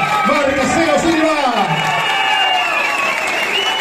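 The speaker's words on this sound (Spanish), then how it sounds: "El aplauso bien fuerte para el campeón, Marcelo Silva." Loud crowd applause with cheering fills an awards ceremony at a Tarariras club motorsport prize-giving honoring the 2023 champion, steady and dense throughout, with an announcer's voice rising over it at the start.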